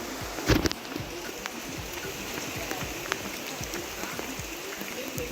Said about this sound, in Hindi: और बारिश बहुत ही हो रही थी।